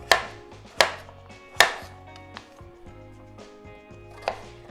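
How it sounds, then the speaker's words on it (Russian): A knife chops pumpkin into small pieces on a cutting board: several sharp, sudden knocks spaced unevenly, with quieter taps between, close up and with no talking. "Нарезаю небольшими кусочками."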